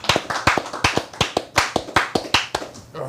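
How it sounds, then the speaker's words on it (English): A small group claps in a studio with steady, evenly spaced, sharp hand claps at a brisk, regular rhythm. The claps are close and moderately loud, with no talking over them. "Them claps sounded weak as hell, all right?"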